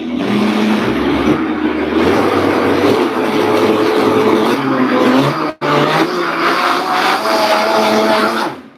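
Loud, steady roar of a large blender whirring a carrot smoothie, running continuously with one brief dip before resuming at full power.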